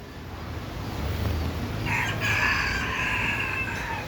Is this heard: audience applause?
no